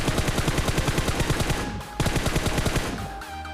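Enemy gunfire in a solo-versus-squad battle royale game rattles out in fast automatic bursts, loud and close, with a short pause partway before the rapid shots resume.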